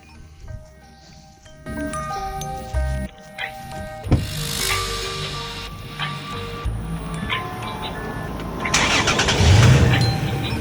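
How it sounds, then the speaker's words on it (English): An off-road vehicle's engine being started after a degreaser wash, a cranking start that catches and settles into a mid-pitched running idle, fairly close, with some clanks and a louder rev near the end. "you're gonna want to start the engine again"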